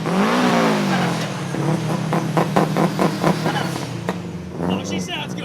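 A car drives past on a road, its engine note rising and falling as it approaches and passes, loud and near, with tire noise and a person speaking over it.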